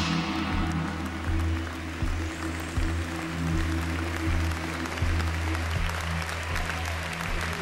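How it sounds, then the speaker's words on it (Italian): Arena audience applauding a departing Miss Italia contestant during the fashion evening, with broad, sustained clapping over a loud steady backing of music with a repeating low pulse. "riceve l'applauso del pubblico del palazzetto"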